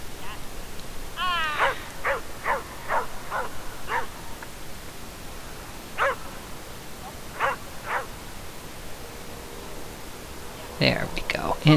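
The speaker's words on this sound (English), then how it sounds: "Although now she's barking at me." Dog named Libby barking during an agility run: a series of sharp, separate barks and yips spaced out over several seconds at moderate distance, with outdoor background noise.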